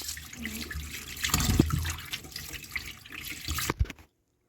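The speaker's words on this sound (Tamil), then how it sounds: "இப்போ பீட்ரூட்டை நல்லா வாஷ் பண்ணி எடுத்துக்கலாம்" Beetroot is washed under a running tap in a home kitchen, water splashing and gurgling close by for a few seconds before cutting off.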